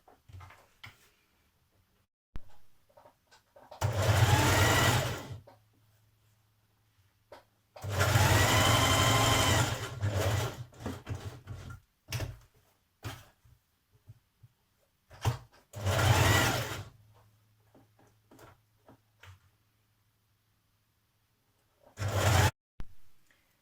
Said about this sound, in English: Now we're going to top stitch around our pockets.